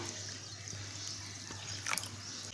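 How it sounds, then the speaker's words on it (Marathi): Poha flakes rinsed in water in a bowl: faint, quiet sloshing with a brief burst of splashing and dripping near the end. "आपल्याला पोहे धुवून घ्यायचे आहेत"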